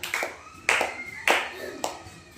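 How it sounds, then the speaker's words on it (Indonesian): Four sharp, separate hand claps in a classroom group-presentation session, evenly spaced and close by, with faint room background between them. "tepuk tangan"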